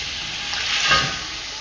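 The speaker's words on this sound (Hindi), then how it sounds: "देखिए हमारे मसाले अच्छे से भुन गए हैं" Spices sizzle and fry steadily in a hot pan for chicken pulao, a loud, continuous hiss with a slight swell in the middle and no voices.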